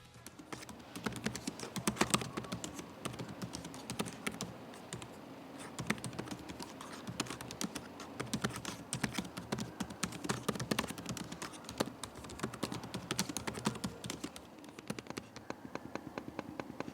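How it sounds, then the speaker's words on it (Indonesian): Fingers type rapidly on the keyboard of an ASUS Vivobook S14 OLED M5406K laptop in a typing test, a dense run of light, close key clicks and taps with faint heavier strokes, steady for the whole stretch with no talking. "tunjukin hasil tes keyboard dan juga touchpad dari laptop ini"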